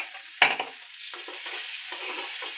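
Garlic, green chili and tomato fry in hot oil for pithla, a steady close sizzle hissing throughout, with a sharp clatter of stirring near the start and a few softer scrapes later, no voices.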